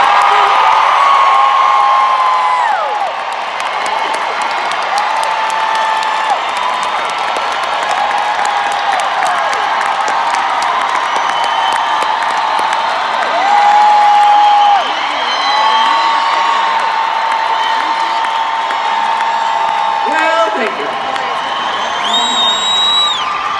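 Concert crowd at a show clapping and cheering, a loud sustained roar of applause with whoops and shouts, tonal voices calling out above it throughout.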